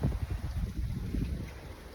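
Gusty wind buffets the microphone in low, fluttering rushes, rising and falling without pause.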